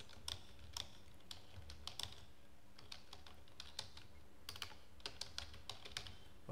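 Keys clatter on a computer keyboard as a short test message is typed, a quiet, close run of irregular light clicks with brief pauses between bursts.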